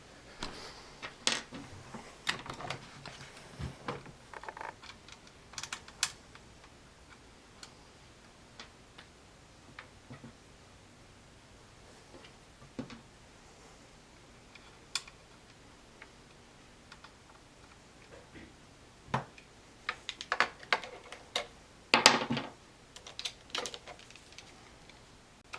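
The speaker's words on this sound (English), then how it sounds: "I'll put the screws back in real quick" Small screws being driven back into an airsoft A&K M249 gearbox, heard as faint irregular ticks and clicks of a screwdriver and metal parts, scattered and close, with a louder clatter toward the end.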